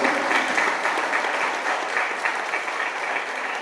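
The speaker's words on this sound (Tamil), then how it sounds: "அதனால எங்கள் சாருக்கு ஒரு பலத்த கரகோஷங்கள்" At a dance and music school's annual day celebration, the audience gives the dance teacher strong applause: thick, continuous clapping from a large crowd, loud and even throughout, with no voices over it.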